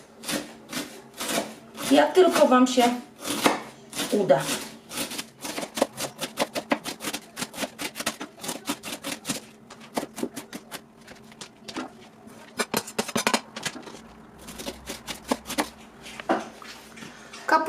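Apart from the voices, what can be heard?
knife finely shredding cabbage on a cutting board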